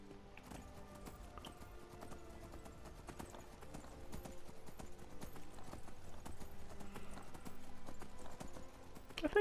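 Horse hooves clip-clop steadily in Skyrim, a repeated even beat close by that grows slightly louder over several seconds, set against a soft game ambience.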